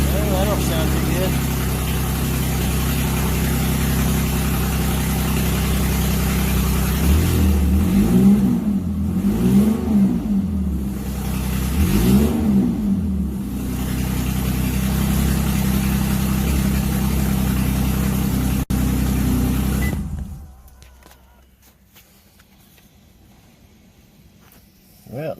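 A Chevy LLT 3.6L V6 engine on its first start after a project, running with an exhaust leak. It idles loud and steady with a few revving swells, then cuts off abruptly and leaves near silence.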